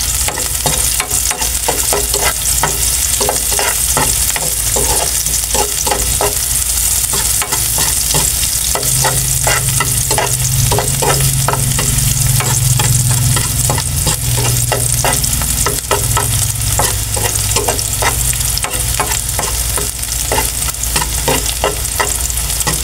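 Onions stir-frying in a pan for ampalaya with chicken liver, a loud steady sizzle with rhythmic spatula scrapes against the pan throughout, no voices.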